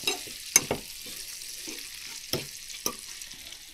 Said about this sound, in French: Hop, on va faire revenir ça à feu vif.